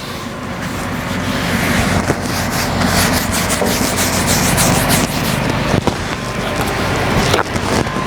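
A paper towel rubs oil across a hot Blackstone griddle surface, a steady, close, continuous scrubbing swish with small scrapes, no talking.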